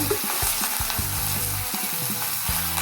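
Loud, steady sizzling and spattering of curry leaves dropped into hot oil for buttermilk rasam, crackling densely throughout with occasional stirring clinks.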